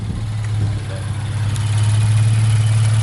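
A Q50 car engine idles steadily close by with stock paper-filter intakes, a low, even rumble holding the same pitch throughout with faint background noise.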